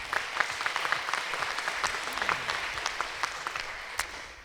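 An audience at a Ward 7 town hall applauds the mayor's office staff: soft, steady crowd clapping with scattered sharper claps, fairly distant and fading toward the end.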